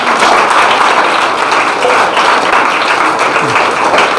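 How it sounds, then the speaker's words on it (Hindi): Applause from a school audience at Central Public School, Maryadpur, Mau, a dense steady wash of many hands clapping throughout, fairly loud and close, with no voices over it. "तालियां हो जाए"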